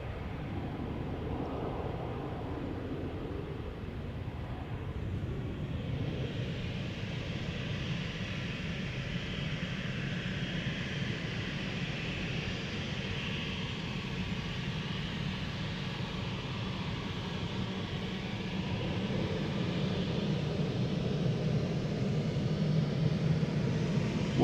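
A KLM passenger jet departs Amsterdam Schiphol Airport, its engines giving a steady, broad roar that holds throughout and swells slightly toward the end, with no talk.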